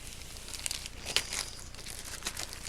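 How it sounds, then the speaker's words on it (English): Scissors cut through plastic packaging during an unboxing, giving close crinkling and snipping sounds with a few sharper crunches, steady and moderately loud throughout. "Let me get the scissors out. We're going to have to really cut."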